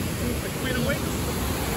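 A waterfall rushes in a continuous broadband hiss at a Disneyland Halloween event, steady and fairly loud, with a voice faintly mixed in.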